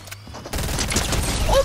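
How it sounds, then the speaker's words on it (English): In a video game, a charge rifle fires one loud, booming blast that begins abruptly after a brief quiet lead-in and rumbles on to the end. "The charge rifle."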